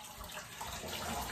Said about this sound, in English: Let the excess water run out